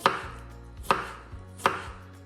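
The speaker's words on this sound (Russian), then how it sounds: "Нарезаем небольшим кубиком." Three sharp knife strikes on a cutting board while cubing cucumber, spaced evenly about a second apart, each a crisp close thud, with quiet in between.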